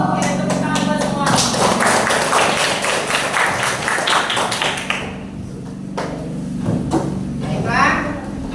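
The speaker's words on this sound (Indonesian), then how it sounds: "tepuk tangan buat semua" A classroom full of students claps together in brisk, close applause that thins out after a few seconds, with a teacher's voice carrying over the room.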